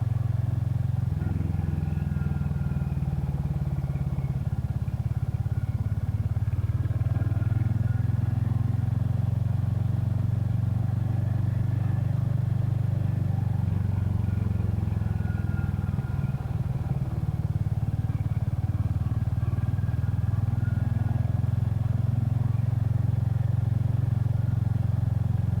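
Steady motorcycle engine drones on a ride through the Yorkshire Dales between Hawes and Dent, a continuous low rumble with wind buffeting, close and even with slight rises in revs.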